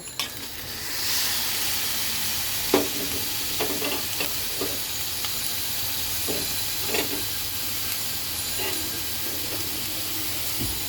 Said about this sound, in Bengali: এখন আমি দিয়ে দেব কেটে রাখা সবজিগুলো